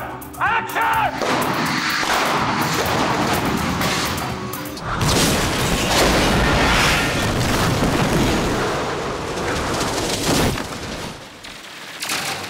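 Pyrotechnic explosion effects for a Batman train shot at Wayne Station, a rolling booming roar with crashing debris and crackle that swells and lingers throughout, heavy and continuous.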